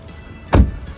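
An electric window motor on a car with a full leather interior and six-speed manual gearbox whirs briefly in the middle of an otherwise quiet cabin, a single short close burst.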